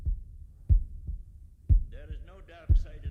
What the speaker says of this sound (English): It's that heartbeat again.